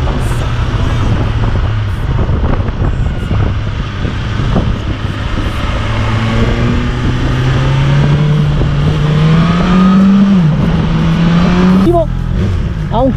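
A 2020 BMW S1000 XR motorcycle engine hums steadily, then revs and climbs in pitch through the gears, loud and close, with a voice talking over it.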